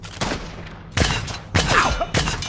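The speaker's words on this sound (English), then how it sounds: "say hello to my little nail gun" A nail gun fired in the video game Block N Load, producing three sharp bursts of rapid shots spaced about half a second apart, close and punchy with faint noise between them.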